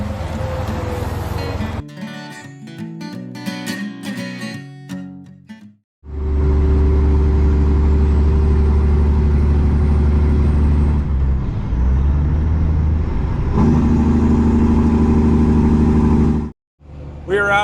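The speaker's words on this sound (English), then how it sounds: "we're trucking with our loud exhaust and a windy day. The exhaust is loud." A semi truck on the road on a windy day, its loud exhaust droning low and heavy for a long stretch with a brief break in the middle, following a short passage of other sound at the start.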